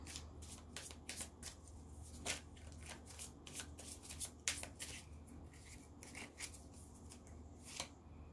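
Tarot cards being shuffled and drawn by hand, close and quiet, with rapid riffling bursts and crisp slaps repeating steadily, with no talk.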